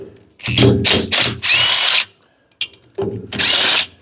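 A power tool drives a bolt out of a Woods 720 Brush Bull brush cutter during PTO shaft repair work, with three quick whirring bursts and a longer run, a pause, then two more bursts, loud and close.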